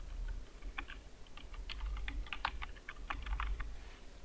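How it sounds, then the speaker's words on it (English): A computer keyboard being typed on at a quick, uneven pace, with clicking key presses in close, quiet bursts and nothing else heard. "Now select next and type your URL or link."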